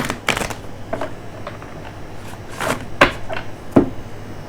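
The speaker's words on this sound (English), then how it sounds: "I'm going to give at least one more shuffle on camera" Tarot cards being shuffled by hand, a few soft riffling bursts and taps spaced irregularly, close and fairly quiet with no talk.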